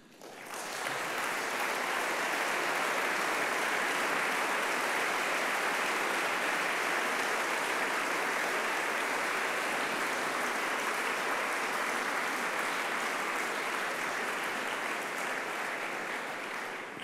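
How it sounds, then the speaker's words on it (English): A large seminar audience breaks into sustained applause, a loud, even wash of many hands that rises quickly and holds steady for well over fifteen seconds without talk. "That was your applause."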